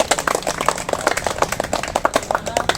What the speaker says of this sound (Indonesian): tepuk tangan dulu terlebih dahulu untuk kepala